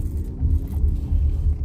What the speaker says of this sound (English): You can hear a little bit of the electric whine, you know what I mean?